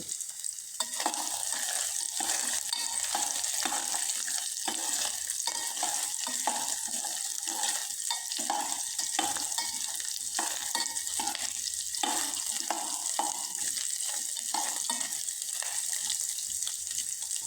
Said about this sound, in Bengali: আমি ড্রাই ফ্রুটটা হালকা আছে এভাবে কিছু সময় ভেজে নিলাম।